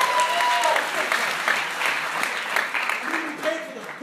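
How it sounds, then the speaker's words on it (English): Audience at a comedy sketch show breaks into applause, a dense, even patter of many hands clapping at moderate level for about four seconds, with a voice briefly heard over it. "Can we all give a round of applause"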